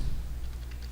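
Keys clatter on a computer keyboard during a Microsoft Word lesson, a quick, quiet run of typing strokes heard close and alone.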